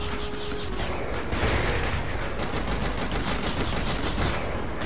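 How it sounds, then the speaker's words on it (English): Dense, continuous rapid-fire bursts of vehicle-launched missiles in Saints Row: The Third Remastered, loud and unbroken, with a low engine-like rumble underneath throughout. "So that's how I fire missiles then"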